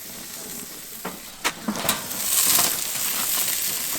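Marinated beef sizzles steadily on a grill for a Vietnamese sub at an outdoor tailgate barbecue, with a few sharp scraping clicks of a utensil partway through and the frying hiss swelling louder toward the end.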